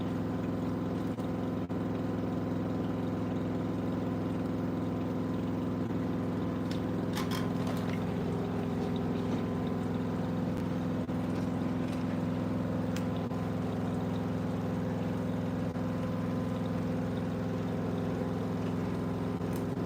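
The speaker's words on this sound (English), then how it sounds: "It really doesn't need to spin that long." A 8900 washing machine on a stain cycle spins with a steady, loud motor hum that holds an even drone throughout, with faint mechanical rattles and no talking.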